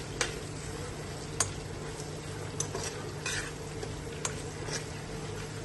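Oil crackles and sizzles steadily in a pan as tempering spices with garlic fry for a tadka, with a few sharp clinks of a utensil against metal scattered throughout.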